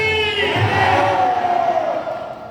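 A devotional gathering honoring Ganga Maiya erupts in a loud collective shout of praise, many voices rising together then tapering off over a couple of seconds, with a clatter of clapping underneath.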